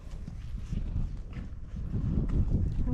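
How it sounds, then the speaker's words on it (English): A horse walks close by near a parked jeep, its hooves clip-clopping in an uneven, steady rhythm over a low outdoor background, with no clear talking. "Oh, horse is coming too."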